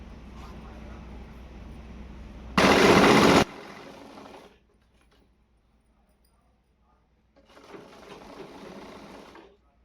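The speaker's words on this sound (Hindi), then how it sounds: "इस पर हम सिलाई लगाएंगे" A sewing machine stitches a salwar hem in a short loud burst, then runs more steadily before stopping; after a pause of near silence it starts again.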